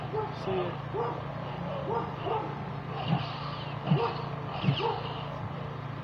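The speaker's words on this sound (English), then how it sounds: "Sorry if you guys hear that in the background," A dog barks and yips a few times in the background, short and muffled, under someone talking steadily in a room.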